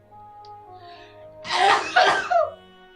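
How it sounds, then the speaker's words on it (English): A man lets out one loud, close sneeze in a sharp double burst over faint background music while playing My Time at Portia. "Oh, that was a crazy, crazy sneeze."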